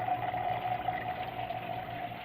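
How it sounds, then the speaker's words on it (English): Water flows steadily through an aquaponics drain in a small 6x8 greenhouse, pulling air in and mixing it as it swirls down, producing a continuous, close gurgling rush with no talk. "it's pulling air into the water and mixing air into the water all the way down, and it allows the water to flow out quicker"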